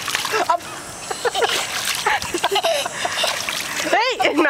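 Water splashes and sloshes in a pool as a child swims, in bursts across the clip, with voices talking over it and a sharp cry near the end.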